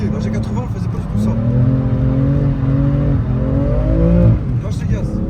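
A BMW F80 M3 engine revs hard during drifting, a loud close rising and falling drone with throttle blips, and someone talks over it throughout.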